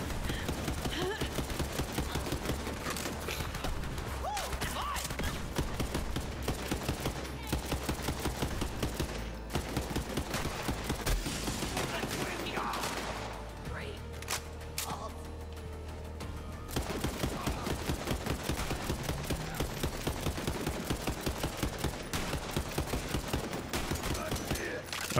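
Gunfire from a gun in the video game Borderlands 3 crackles in rapid, repeated bursts, stopping briefly partway through before starting up again, with a player talking quietly in the background.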